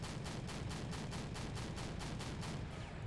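Rapid, evenly spaced gunfire in a Red Rising mod battle, a Eurocopter helicopter trading shots with an AA gun, pounding out about a dozen loud bursts over a continuous low rumble.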